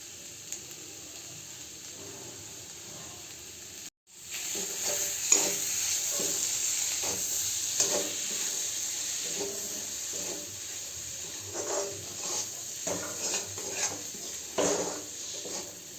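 Rajma masala with potatoes frying in a pan, a soft sizzle that swells after a brief silence, with intermittent scraping and stirring noises continuing steadily in the background and no talking.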